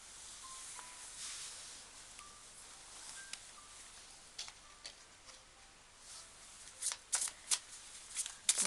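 Tarot cards being shuffled and pulled, close and soft: quiet riffling and flicking of cards with scattered taps, growing into sharper, louder snaps toward the end.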